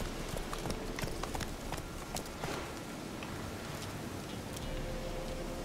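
Horse hooves clip-clop steadily at a moderate pace in The Witcher 3: Wild Hunt, a fantasy video game, over a dense bed of outdoor game ambience.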